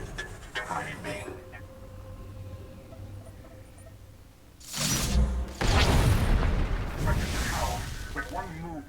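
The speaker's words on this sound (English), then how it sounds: "our flux cannons fire, and an Imperial capital ship is disintegrated" Flux cannons firing and an Imperial capital ship blowing apart in Star Wars: The Old Republic, a low hum under talk giving way to heavy booming blasts and rumbling debris.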